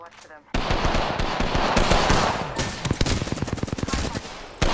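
Gunfire in Apex Legends: loud, rapid automatic bursts crackle close by for several seconds, the shots thinning into separate cracks near the end, while players talk over them.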